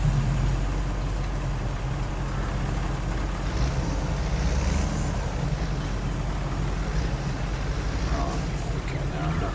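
A Deutz tractor in Farming Simulator 22 drives with a steady, loud, low engine drone that holds unbroken throughout, with a voice talking over it.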